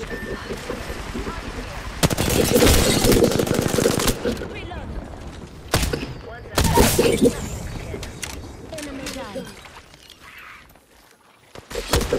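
Gunfire in Apex Legends: bursts of loud rapid automatic fire in several separate volleys with short gaps between, sharp single shots scattered in, and quieter game sounds and talk in the lulls.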